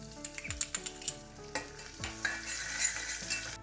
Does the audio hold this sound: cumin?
yes